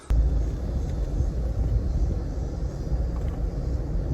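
A Ford Bronco Raptor with a bimini top drives along, giving a steady low rumble of engine and road noise mixed with wind buffeting. The sound is loud and continuous and carries no speech.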